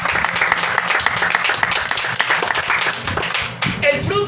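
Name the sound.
congregation applauding in church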